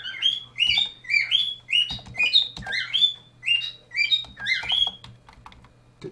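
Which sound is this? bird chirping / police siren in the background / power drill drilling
bird chirping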